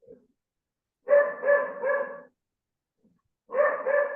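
A dog barks close and clear in two bursts, a quick run of three or four barks followed after a pause by two more, against an otherwise silent background.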